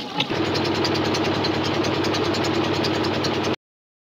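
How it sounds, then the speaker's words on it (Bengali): A boat engine runs steadily after being started, following repairs, on a fishing trip in the Sundarbans; a loud, even drone holds throughout before cutting off abruptly. "কীভাবে নৌকা স্টার্ট দিয়ে আবার নতুন জায়গায় ঘুরতে যাচ্ছি"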